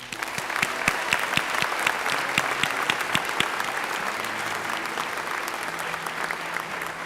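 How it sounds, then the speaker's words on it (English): Sustained applause fills a school district awards ceremony hall, a dense, even roar of many hands clapping with sharper individual claps early on and a low hum beneath. "One more round of applause."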